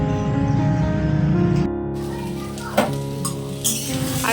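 Carrot, potato, beans, cauliflower and peas frying for khichuri, a steady sizzle with stirring and occasional utensil knocks, the hiss dropping partway through as the vegetables are moved, close and alone without talk.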